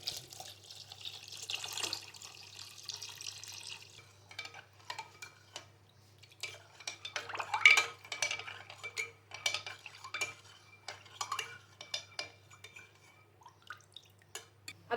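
Water poured into a glass of sharbat made with goond katira, tukhm balanga, mint leaves and lemon juice, heard as close clinks and splashy pouring over a steady low hum, with no talk.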